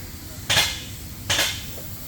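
An electrostatic spray gun applies a coating in two short, close hissing bursts about a second apart, over a quiet background.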